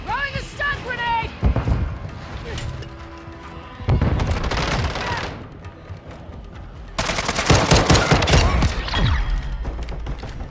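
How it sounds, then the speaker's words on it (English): Video game firefight with a stun grenade thrown: rapid bursts of gunfire and loud booms come in clusters, with sharp bangs and thumps growing denser and louder toward the end, heard alone without voices. "Throwing a stun grenade!"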